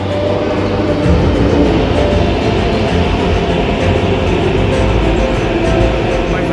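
A metro train arriving at the stadium station near a World Cup cricket match, heard as a loud, steady rumble of rolling carriages with clatter throughout, nearby and unbroken.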